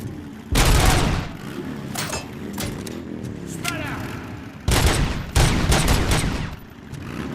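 Bursts of gunfire from the Robocop: Rogue City video game hit in loud clusters, some rapid like automatic fire, with someone speaking between and under the shots.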